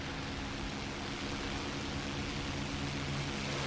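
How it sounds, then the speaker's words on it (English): Steady broadband aircraft roar in War Thunder, with an enemy fighter plane nearby closing on a Saab B-18B medium bomber; a constant loud engine and wind wash fills the whole stretch without any voices. "Certainly sounds like we've got an enemy fighter nearby."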